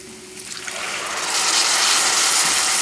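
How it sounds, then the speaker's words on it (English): Water or chicken stock pours into a pot of brown rice and garbanzo beans, a soft trickle that swells into a steady, rushing splash. "And now we'll add the water"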